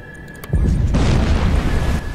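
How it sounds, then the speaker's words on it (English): A deep, rumbling explosion bursts out in the submarine game Silent Hunter 4, loud and sustained with a roaring low-end tail after a few faint clicks. "Big explosion."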